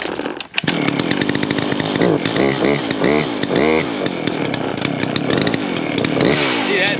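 A chainsaw cuts through an old spruce tree being felled for milling into timbers, its engine roaring loud and close without a break, the pitch wavering as the chain bites the wood.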